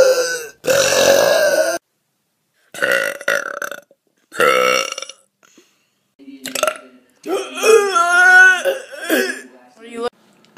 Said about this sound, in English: Yes, girls burp.